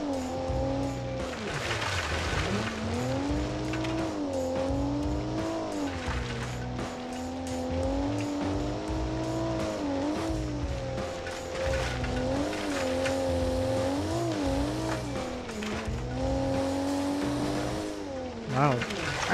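A modern carburetored SUV built in Automation and driven in the BeamNG racing game, its engine holding a steady, loud drone that rises and falls with throttle, with tire squeal throughout and a brief knock near the end.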